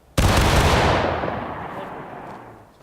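A single loud musket volley fired together by a line of soldiers in the Civil War game War of Rights, one sharp crack that rolls off into a long fading rumble.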